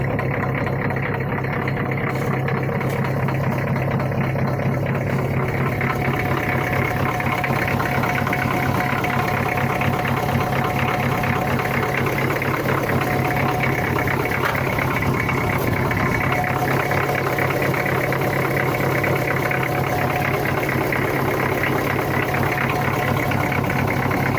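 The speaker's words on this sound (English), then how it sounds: "Super nice cold start." Car engine after a cold start, settling into a steady, loud idle with a continuous low rumble and constant mechanical vibration throughout, no talk.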